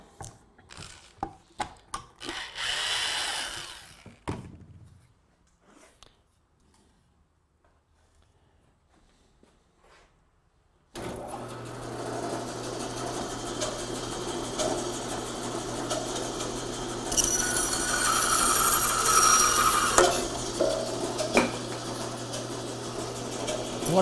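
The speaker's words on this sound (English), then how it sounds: "What I'm doing here is shaving this piece down to reduce its thickness" A curved wooden piece being shaved down to reduce its thickness for a plant stand, a rapid run of scraping strokes, then quiet, then a steady droning power-tool whir that grows louder toward the end.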